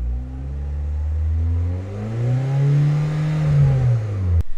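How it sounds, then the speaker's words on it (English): A Vauxhall Astra SRi Turbo car engine revs up and settles, its pitch rising and falling twice in smooth swells, close and fairly loud. "And just give it a few revs."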